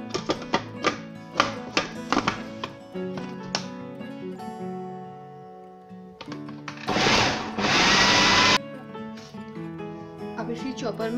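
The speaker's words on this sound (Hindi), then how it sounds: "अब इसको हम चॉपर में डाल के चॉपराइज करते हैं।" An electric food chopper whirring through a boiled chana dal mixture for shami kabab, a short loud grinding burst after clattering taps and background music, with someone talking over it.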